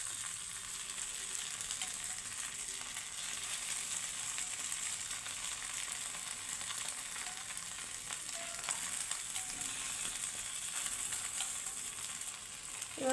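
An egg, chicken and cheese ball fries gently in a pan over a low flame, giving a soft, continuous sizzle with fine crackling that runs steadily throughout and briefly swells near the end.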